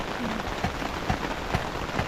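Steady rain patters on a surface in a forest camp, a dense continuous hiss with a few soft drop taps, close and even throughout with no talking.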